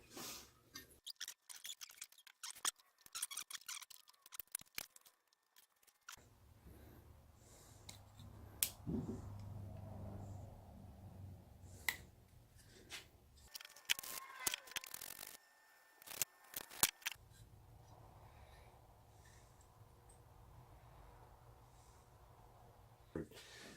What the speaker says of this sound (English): I'm just going to take out the carburetor right here.